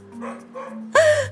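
A fierce dog in an animated story gives a low growling lead-in, then one loud, sharp bark near the end.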